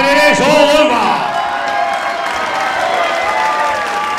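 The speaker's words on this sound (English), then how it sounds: "Big round of applause for these two fighters." Crowd at a boxing event on the wharves applauds and cheers two fighters after a unanimous decision, loud sustained clapping with whoops and shouts, a voice carrying over the noise.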